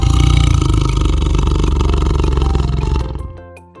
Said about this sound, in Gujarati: વાઘ ત્રાડ પાડે,